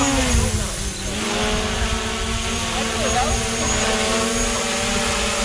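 A camera drone lifts off from a hand in Pirapora do Bom Jesus, its rotors whining in a loud, steady buzz with a rising tone, under a voice speaking.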